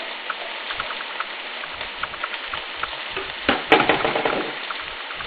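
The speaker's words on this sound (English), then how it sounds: "the pot is hot enough to keep toasting it a little bit" Cream of wheat toasting for upma in a hot pot, a steady close sizzle with soft scraping stirs and a brief louder rattle of stirring near the end; no talking.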